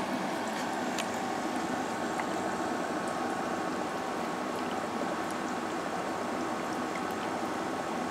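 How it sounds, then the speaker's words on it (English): An HHO electrolysis cell running at 40 amps, with a dense, steady bubbling and fizzing hiss that continues evenly throughout, fairly close and alone. "If I turn her up to 40 amps, I get lots of bubbles."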